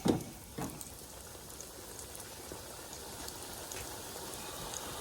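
Tortilla chips go into hot oil with a brief loud splash, then settle into a steady faint bubbling crackle of frying, with no talking.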